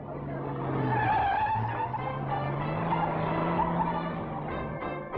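A stunt sedan at an auto thrill show revs and skids, its engine droning with sustained tire squeal over the whole stretch, loud and close, with a few sharp knocks at the end.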